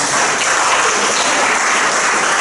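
Congregation applauding in a church during a sermon, a loud, dense and continuous wash of clapping filling the room, with no voices over it.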